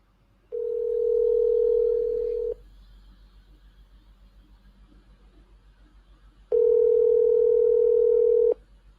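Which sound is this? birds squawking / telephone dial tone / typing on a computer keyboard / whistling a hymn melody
telephone dial tone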